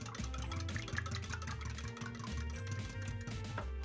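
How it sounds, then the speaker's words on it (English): Dry and wet pancake batter ingredients with vanilla essence being mixed together in a bowl, giving a quiet, steady whirring with a rhythmic pulsing churn, close by, with no talking. "Use your mix and mix in the dry ingredients together with the wet ingredients to combine."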